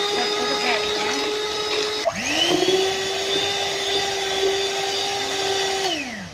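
An electric hand mixer whirring steadily as it beats eggs and sugar, a loud close motor whine that dips and restarts its pitch partway through, then winds down at the end.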